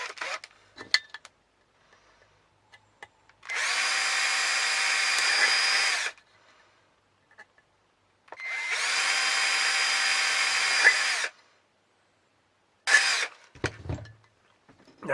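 A power drill with a small bit drills holes for a penny stove, whirring in two steady bursts of about two and a half seconds each, then a brief third burst, with quiet pauses and small clicks between.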